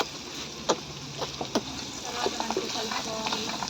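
Eggplant curry fries in oil with chili powder and turmeric while being stirred. A soft, steady sizzle runs under sharp scraping clicks and taps from the spoon against the pan.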